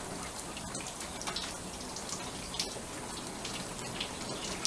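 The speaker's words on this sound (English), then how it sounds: "you want to let your hose just kind of dribble water out" A garden hose dribbles water over a car's body panels, giving a soft, continuous patter and trickle with scattered drips, heard close and fairly quiet with no talking.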